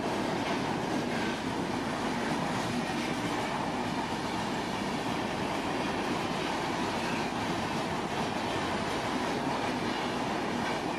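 An Indian express train rushes through a station with a continuous, loud roar of wheels and carriages, steady and unbroken from start to finish, with no voices.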